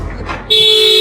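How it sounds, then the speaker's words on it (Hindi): A car horn cuts in abruptly after a moment of quiet background noise and blares as one steady, loud, close tone to the end. "देखो जरा क्यों हॉर्न बजा रहा है।"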